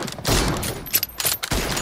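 Gunfire in PUBG Mobile, a rapid series of close, loud shots in quick bursts separated by brief pauses.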